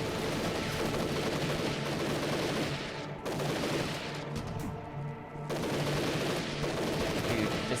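Sustained, loud gunfire from the video game Army Men: Sarge's War on GameCube, rapid overlapping shots and bursts filling nearly the whole stretch, with brief lulls partway through.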